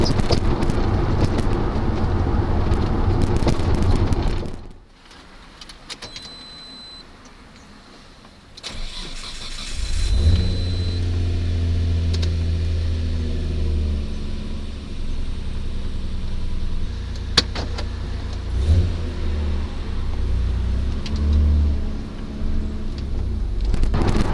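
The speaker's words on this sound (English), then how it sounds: "I've got no rear seats in the car and the back is stripped, so it's pretty noisy when I'm driving" A Nissan R32 GT-R engine with boost starts, then rumbles loudly at low pitch with varying revs, an interior drone with road noise from a stripped cabin with no rear seats, no voices.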